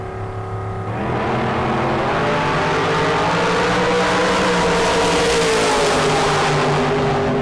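Drag racing cars at a Sunday bracket race fire up and rev, a loud sustained engine roar that rises in pitch as they accelerate, with no talk over it.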